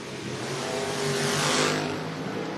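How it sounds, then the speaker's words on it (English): Race cars launch side by side in a drag race at the FRBR Door Wars event, a loud roaring engine wash swelling to a peak and fading as they pass, heard alone without talk. "Good drag race."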